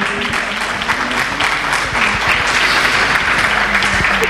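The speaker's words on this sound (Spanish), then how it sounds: "Javier Hernández, un aplauso para él" Loud, sustained applause from an indoor audience at the presentation of a Club World Championship under-17 football tournament, dense clapping filling the whole stretch at an even level.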